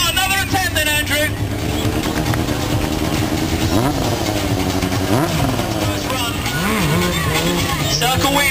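Streetfighter motorcycle engine at a Wembley bike stunt show, roaring loudly and continuously during circle wheelies, pitch sweeping up and down with throttle, with crowd noise and commentator talk over it.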